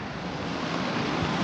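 A small stream of water flows steadily over stones, a dense continuous rushing that stays even and fairly close throughout with no voices.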